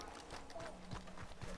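Hooves clip-clop in a steady rhythm at a moderate distance, with game music and ambient noise underneath.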